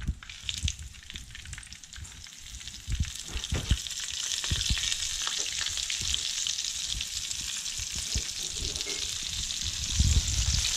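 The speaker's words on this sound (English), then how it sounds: "really important to have hot oil so the fish doesn't absorb too much oil" Yellow Jack fish fries in hot oil with a constant close sizzle and scattered crackles and pops, steady throughout with no talking.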